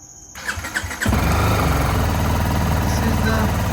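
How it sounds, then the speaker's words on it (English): A BMW G310 GS motorcycle engine cranks briefly with a starter whir, then catches and settles into a loud, steady idle close by. "Start the engine."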